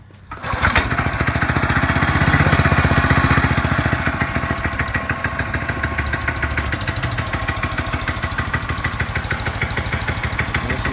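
A Manco Vortex go-kart engine, just serviced with fresh oil and gas, catches on the pull start and roars up loud right away. It then settles into a steady, rapid, close-up chugging idle that keeps going without any talk.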